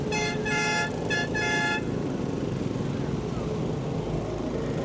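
Car horns honk in a 30-car salute during a 1991 Shrine ceremonial parade, several toots in quick bursts over a steady roar of engines and crowd noise outdoors.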